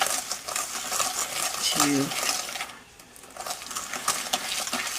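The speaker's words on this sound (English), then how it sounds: "And then just use the whisk" A whisk stirring granulated sugar into melted butter and cocoa in a bowl, with rapid scraping and clinking strokes against the sides, close and continuous, pausing briefly midway while a voice speaks over it.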